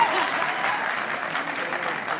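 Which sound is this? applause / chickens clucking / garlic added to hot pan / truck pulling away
applause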